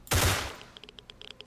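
A single loud gunshot in the video game StalkerSoup, fired at enemies, bursts out and decays over a fraction of a second, followed by a string of faint, quick metallic clicks; no voices.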